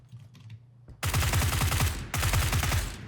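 Rapid automatic gunfire in a battle-royale shooter, two loud sustained bursts of shots fired up close after a quiet start with a faint voice.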